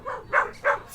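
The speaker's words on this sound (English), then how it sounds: "dog park" A dog at a dog park barks three times in quick succession, close and fairly loud, each bark short and sharp with brief gaps between them.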